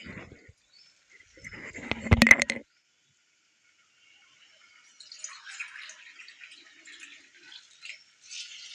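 Water is poured into soaked basmati rice for egg biryani in a home kitchen, making one brief splashing burst and then a faint, scattered trickle in a quiet room.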